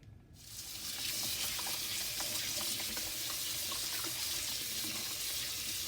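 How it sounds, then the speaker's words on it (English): A tap runs steadily as star fruit, kiwi and green apple are rinsed under it, giving a loud, continuous splashing hiss that starts abruptly and holds without a break to the end. "I'm going to wash all these fruits"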